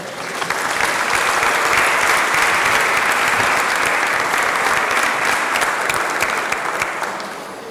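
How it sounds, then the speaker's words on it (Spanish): Full audience applause at a solemn town council session welcoming a tenor, loud dense clapping that swells, holds for several seconds and then tapers off, with no talk over it. "Recibámoslo con un aplauso."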